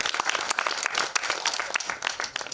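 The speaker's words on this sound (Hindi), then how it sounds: "तो फिर से जोरदार तालियां।" Enthusiastic clapping from an audience at a movie trailer launch event, uneven bursts of hand claps over a few seconds.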